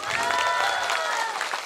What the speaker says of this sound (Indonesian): tepuk tangan untuk para kiai